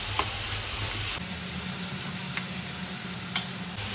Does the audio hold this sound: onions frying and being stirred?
yes